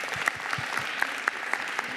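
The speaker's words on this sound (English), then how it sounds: "a big round of applause" Applause from an audience at an academic photography session at The New School, a steady wash of clapping with a few sharper individual claps standing out, moderately close.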